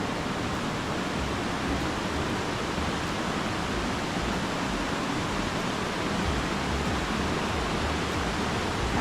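Argyle Waterfall in Tobago roars as a steady, dense wash of falling water, loud and close, filling the whole clip without a break and with no voices.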